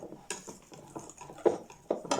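A utensil stirs chocolate cake batter in a bowl, producing soft repeated scraping and knocking sounds at a steady rhythm, close by and moderately quiet.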